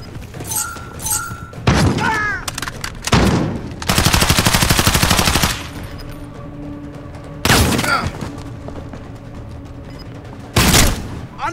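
Gunfire in Call of Duty: Modern Warfare, a multiplayer team deathmatch, arrives in loud separate bursts: an extended rapid automatic volley in the middle, with shorter sharp blasts and thumps before and after it, over low game ambience.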